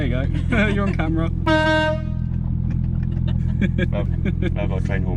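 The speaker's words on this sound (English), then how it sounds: "I've got a train horn, by the way." A train horn fitted to a widebody R33 Skyline gives one short, loud, tonal blast, over a steady engine rumble and amid nearby talking.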